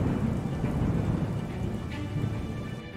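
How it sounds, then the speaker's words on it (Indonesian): Heavy rain pours down steadily under a deep, continuous rumble of thunder, dense and loud throughout with no break. "kilat bergemuruh, petir menyambar ke seluruh tempat, dan hujan deras mulai turun"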